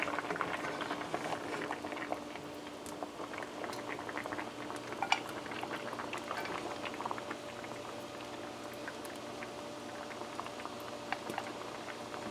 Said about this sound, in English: So our cassava is finished boiling and we're gonna take it out now.